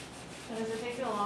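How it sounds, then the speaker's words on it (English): Soft-bristle brush scrubbing a leather shoe in circles, a short, quiet rubbing swish that swells slightly halfway through, heard alone. "So with this leather, I'm going to start out with the soft bristle."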